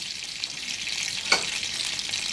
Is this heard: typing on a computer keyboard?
no